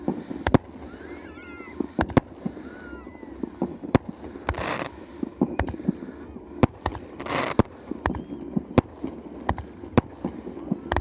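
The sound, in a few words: fireworks salute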